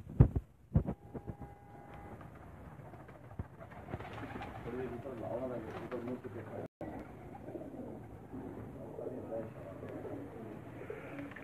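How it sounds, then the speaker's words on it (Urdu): Rooftop flock of flying pigeons in Rawalpindi, with soft cooing and fluttering over a steady murmur, a few sharp knocks at the start and faint voices in the background. "اب آپ جو میری سکرین پر کبوتر دیکھ رہے ہیں"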